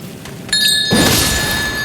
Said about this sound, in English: Damn it, I hit the fucking bells.